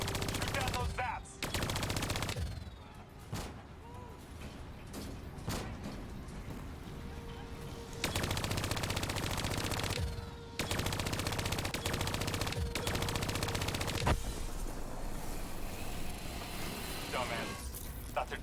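Sustained bursts of automatic gunfire from the video game Call of Duty: Black Ops III, with long dense stretches of machine-gun fire and explosive cracks, loud and close, with a voice talking over the action.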